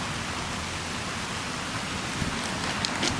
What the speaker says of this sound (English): Rain coming down here in Cumberland